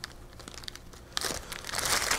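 Packaging from a Tesoro Excalibur Spectrum mechanical keyboard crinkles and rustles as it is unwrapped, close and continuous, growing louder and busier toward the end.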